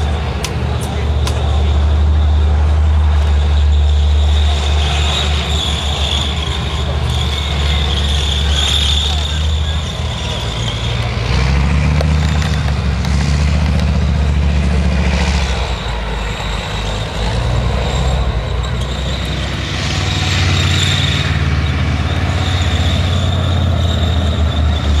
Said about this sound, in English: You'll get that lovely throb from those big engines as they roll around.